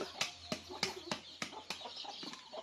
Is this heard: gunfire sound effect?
no